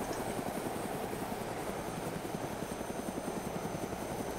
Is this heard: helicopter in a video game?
yes